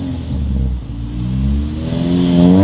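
A racecar engine revs loudly and close, its pitch climbing steadily as the throttle opens, with a brief dip before a strong rise toward the end.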